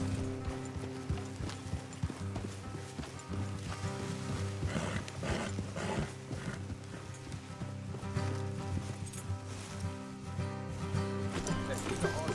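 Horse hooves clip-clop steadily at a quick pace under a swelling music score, with a brief whinny.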